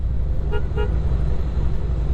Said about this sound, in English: Got a nice deep sounding air horn.